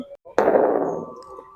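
A short electronic blip followed by a synthetic boom like a small explosion, an Arctic Fox Bluetooth speaker powering off, bursting suddenly and fading over about a second.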